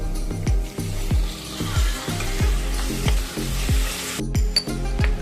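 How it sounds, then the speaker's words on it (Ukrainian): Carrot and chicken pieces fry for chicken pilaf, a continuous sizzle close by, broken by regular scraping stirs and the clink of a utensil against the pan. "Поступово, але швидко обсмажуємо все до золотистого кольору."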